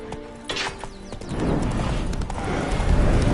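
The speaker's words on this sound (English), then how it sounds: "Spooking my horse." A horse snorts and whinnies amid clattering hooves and shuffling, followed by a rising rumble of movement, in The Witcher 3 on PS5.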